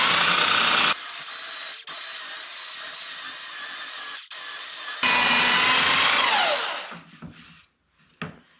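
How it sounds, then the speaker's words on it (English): A belt sander smooths an odd-shaped piece held by hand, whining loudly and steadily in two long passes with brief dips, then spinning down and falling quiet. "just take a belt sander and just kind of smooth it out."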